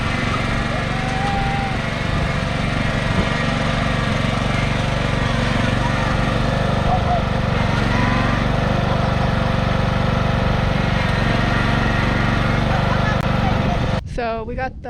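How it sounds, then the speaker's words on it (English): A lawn mower engine drones steadily and loudly while the mower sits stuck in garden dirt, with a brief burst of other noise near the end. "So we got the mower stuck"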